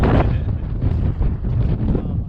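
Strong gusting wind buffets the microphone on the exposed west peak of Bigelow mountain, a loud continuous rumbling roar that swells and dips with no voices.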